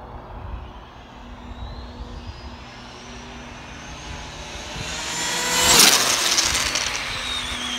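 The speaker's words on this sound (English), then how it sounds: "You hear the front scraping just as soon as I hit the brakes?" A fast Arrma RC car roars past with a rising, then falling whine, loudest as it goes by. Brief scraping from the front is not clearly set apart from the motor noise.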